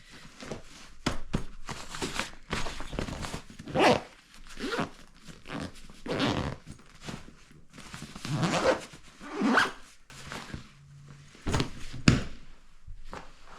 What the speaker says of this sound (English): Let's see if I can even zip this.